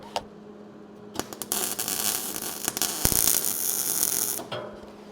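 Arc welding on a steel 55 gallon drum, a steady crackling buzz that swells through the middle of the clip with sharp bursts at the start and end, close by with no talk.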